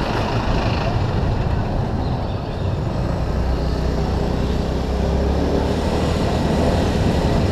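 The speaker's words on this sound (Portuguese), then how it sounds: "Ó, avião, ó, avião." A steady, loud roar of an airplane passing overhead at Praia Vermelha beach in Rio de Janeiro, heavy low rumble blending with wind and engine noise throughout.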